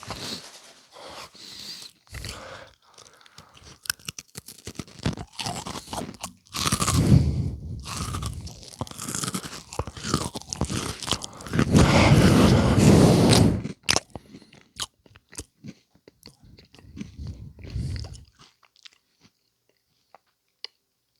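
Close-up food chewing and crunching recorded for ASMR: repeated loud crisp bites and grinding crunches in bursts, with quieter wet chewing between them, fading to sparse small clicks near the end.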